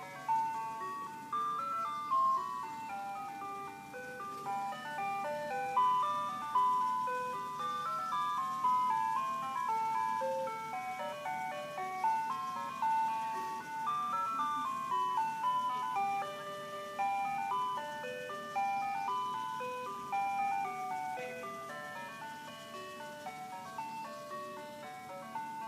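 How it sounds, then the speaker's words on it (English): An ice cream truck plays La Cucaracha as a steady, tinkling electronic chime melody, moderately loud and continuous with no talking. "we have an ice cream truck that plays La Cucaracha"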